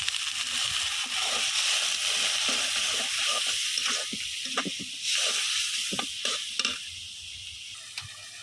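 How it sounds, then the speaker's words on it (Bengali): Ground spices of turmeric, chili and coriander frying with a little water in a pan, a constant close sizzle and hiss broken by irregular scraping stir strokes that grow sparser near the end. "এখন দিয়ে দিব আমি একটু অল্প পানি দিয়ে মশলাটা কষাই নেব।"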